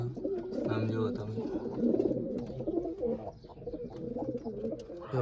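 Pet pigeons coo in soft, repeated low calls close by, with someone talking quietly over them.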